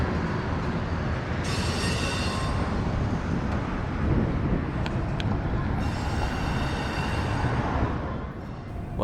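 A freight train hauling domestic intermodal and UPS trailers rumbles past continuously and loudly, with wheels squealing high over the steady roar and a few sharp metallic clanks midway.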